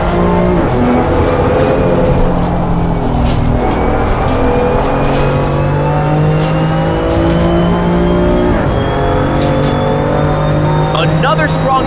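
BMW M2 CS Cup race cars run at full throttle in close formation, engines droning loud and constant with shifting pitch as they slipstream, under steady race commentary.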